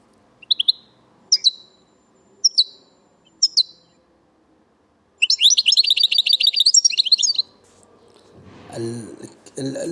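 A songbird in the Algerian singing tradition repeats a short chirping leg-leg phrase four times at a slow, even pace, then breaks into a rapid trill, followed by low rumbling noise.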